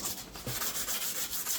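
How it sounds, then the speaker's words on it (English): Close-up sanding of sharp edges on a campervan build, a quick rhythmic scrubbing of abrasive paper rubbing back and forth over an edge. "Mainly just the edges that need the sanding, just to take that sharp, really sharp edge off."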